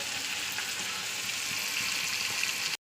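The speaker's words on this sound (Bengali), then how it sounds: "দুটো মাছ ভাজা হয়ে গেছে আর দুটো মাছ দিয়েছি" A steady crackling sizzle of fish frying in hot oil in a pan, close and constant, cutting off abruptly at the end.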